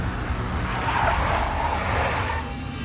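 Tires of a big black Mercedes skid in the Max Payne Mobile video game, a sustained loud screech lasting nearly three seconds over a steady engine rumble.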